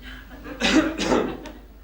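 Two short, harsh coughs close to the microphone, followed by a tiny click; no talking. From a performance of Oscar Wilde's play The Importance of Being Earnest.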